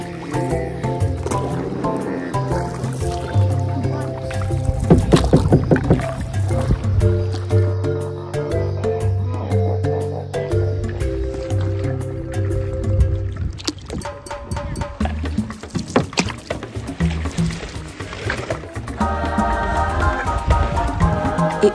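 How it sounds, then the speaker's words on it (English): Canoe on an African river, with wooden paddle strokes dipping and splashing in calm water, soft knocks and drips in an irregular rhythm close by, mixed with background music. "we decided to go on an afternoon canoeing expedition"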